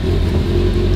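A Subaru WRX engine rumbles loudly and steadily at close range for a brief moment, with no voices heard.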